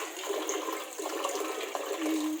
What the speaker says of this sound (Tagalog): Oh, hugasan ang bugas.